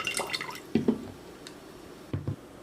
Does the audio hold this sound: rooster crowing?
no